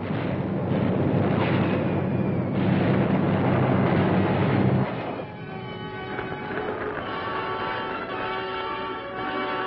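Anti-aircraft flak bursting in a wartime newsreel, a loud, rumbling barrage of explosions that rolls on continuously, then drops to a softer, droning roar partway through.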